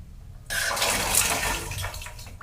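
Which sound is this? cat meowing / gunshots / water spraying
water spraying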